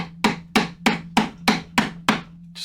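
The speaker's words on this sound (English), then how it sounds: "Just got to hammer it in there a little bit." A hammer drives a bolt into pallet wood with eight sharp, evenly spaced whacks, close and loud, each strike ringing briefly with no voices.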